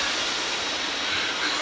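Steady rumble and hiss of a long train running on rails through snowy countryside, continuous and fairly loud with wheel noise and no pauses.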